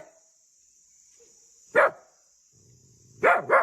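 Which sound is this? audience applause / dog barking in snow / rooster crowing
dog barking in snow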